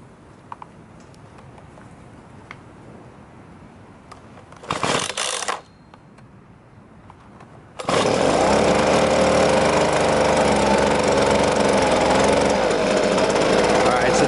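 A Husqvarna 125B handheld leaf blower, freshly tuned at the carburetor, starts with a brief pull-start burst, then roars to a loud, steady high-revving drone close by after a short quiet gap, with a voice faintly underneath.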